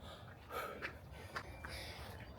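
Heavy breathing and short gasping snorts after a run, several uneven breaths close to the ear over a low background hum, with no talking.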